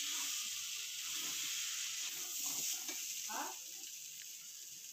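Gobindobhog rice and pointed gourd fry together in a pan, making a soft, steady sizzling hiss with faint stirring scrapes and no talking.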